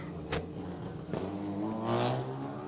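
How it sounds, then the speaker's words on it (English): A race car at a Bigfoot 700 SAES event spins its wheels and pulls away, its engine rising in a loud, droning rev with sharp bursts of tire noise, close and then easing off. "And he'll wheel spin it out of here."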